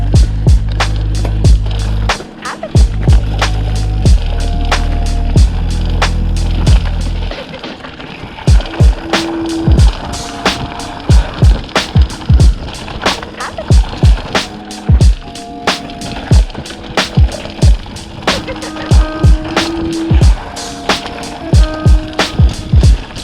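A Polygon D7 mountain bike rides a trail, with a steady rolling rumble broken by frequent sharp clatters and knocks as it bounces over rough ground. The noise runs loud and continuous, with no talking.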